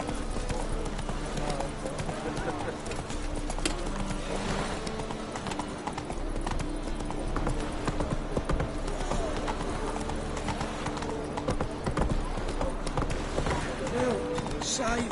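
Roach, Geralt's horse in The Witcher 3 game, gallops with rapid, steady hoofbeat clip-clops, close and loud under game music and a voice talking.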